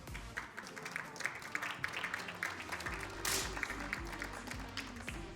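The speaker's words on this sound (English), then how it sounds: "So I'd like to give him a round of applause," Spectators at a 10m air pistol mixed team final at a European championship in Wroclaw, Poland, applauding a coach, with faint, dense, scattered clapping and some low background rumble.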